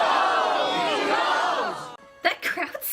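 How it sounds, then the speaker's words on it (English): Annoyed crowd in the Barney's Great Adventure video game, a dense, loud swell of many overlapping voices grumbling and shouting for about two seconds, then cut off and followed by speech. "That crowd sounded legitimately annoyed too."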